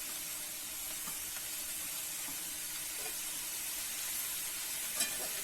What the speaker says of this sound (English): I mixed all the vegetables and the parathas